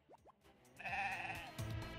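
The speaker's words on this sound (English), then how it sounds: "The eerie moans of the wild band sheep at night have led many to believe they're restless undead spirits." Bandsheep monster from the video game Cassette Beasts bleating, with a rising synthetic moan swelling and holding for about a second, then a second bleat near the end, set against quiet game music.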